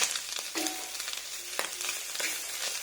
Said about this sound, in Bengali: দাঁড়া মাছটা ভাজা হোক